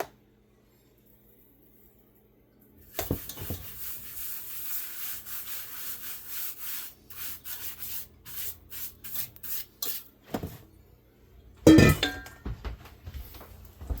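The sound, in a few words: rolling pizza dough on plastic wrap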